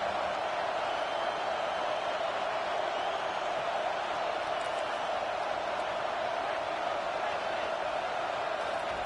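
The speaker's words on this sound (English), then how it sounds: "Decibels rising as the crowd gets behind this defense on third down." Dense, steady roar of a large football stadium crowd during a third-down defensive stand, constant and loud throughout.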